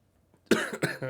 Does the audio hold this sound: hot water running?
no